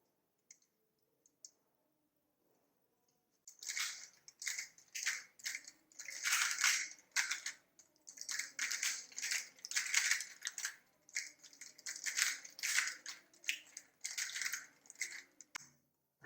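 A Rubik's Cube is turned rapidly during a solve after a few seconds of near silence. Dense bursts of sharp plastic clicks and clacks run continuously to the end, close to the microphone, with no talking.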